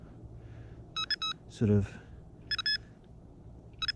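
Electronic bite alarm on a pike fishing rig in the Fens sounds short, bright bursts of beeps, two pairs and a final chirp, fairly close, with someone briefly speaking in between.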